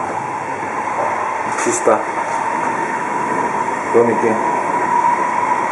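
Inside a second-class railway carriage travelling toward Salzburg and Austria, a constant rumbling hum and hiss of the moving train runs throughout, with a person speaking over it.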